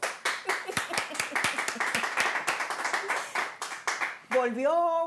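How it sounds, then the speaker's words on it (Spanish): Studio audience clapping to welcome a guest at a Spanish-language interview show, a burst of sharp rhythmic handclaps from a small crowd, lively and close, ending as a voice starts speaking. "¡Aplauso, muchachos!"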